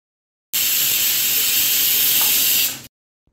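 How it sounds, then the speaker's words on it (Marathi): A pressure cooker of Maharashtrian masale bhat lets off a loud, continuous hiss of escaping steam for a little over two seconds, then cuts off abruptly into silence. "आता आपण याला कुकरला झाकण लावून घेणार आहोत आणि याच्या 5 शिट्ट्या करून घेणार आहोत"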